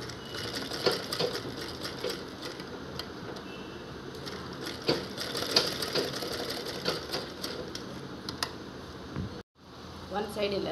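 A sewing machine stitching a table cloth, with rapid close mechanical clatter in bursts broken by brief pauses, and a near-silent gap before stitching resumes; a voice talks alongside.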